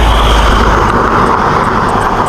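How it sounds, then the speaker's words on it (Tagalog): A car passes close by on a road in Mapita, Aguilar, Pangasinan, a loud, steady engine and tyre roar filling the whole moment with no voices. "Sasakyan"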